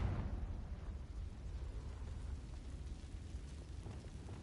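A Confringo fire blast spell explodes in Hogwarts Legacy, a faint, low rumbling boom that starts with a burst and then tails off into a steady roar of fiery noise.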